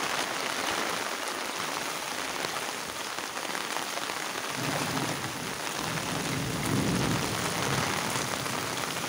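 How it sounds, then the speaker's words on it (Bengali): Heavy rain pours steadily on the streets of Pallabi, Mirpur, in Dhaka, a dense, constant hiss of water with a faint low rumble near the end and no voices. "দেখুন সকাল থেকে প্রচণ্ড বৃষ্টি।"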